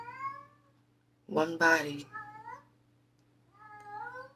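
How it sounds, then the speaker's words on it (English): A house cat meows several times, drawn-out rising and falling calls near the microphone, with a person speaking briefly between the meows over a faint steady hum. "I have to excuse my cat."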